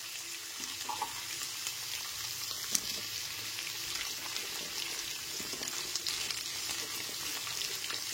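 Chopped radish pieces go into a pan of mixed winter vegetables and fry with a soft, steady sizzle, broken by a few light scrapes and clicks of stirring close by.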